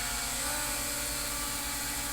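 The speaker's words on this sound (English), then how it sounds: "I'm going to head and launch the drone." Small camera drone (GD89 Pro) hovering outdoors, a steady continuous propeller buzz with a constant whine, fairly close and alone without talk.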